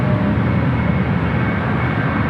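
A United Boeing 777-200 heavy on its takeoff roll from runway 28 left at San Francisco airport, a loud steady low jet engine roar heard from a distance, with no voices.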